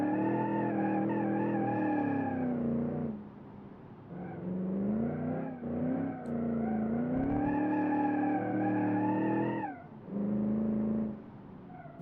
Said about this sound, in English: This thing is just a tire smoking beast.